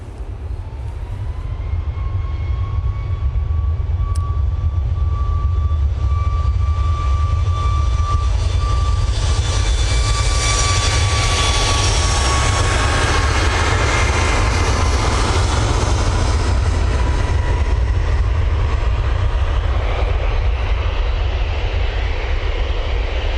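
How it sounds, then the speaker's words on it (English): A Ryanair Boeing 737 MAX 8 departs Manchester Airport, its jet engines spooling up with a steady rising whine over a deep, continuous roar that holds loud and close for a long stretch. "Ryanair 737 MAX 8 now a line up for departure"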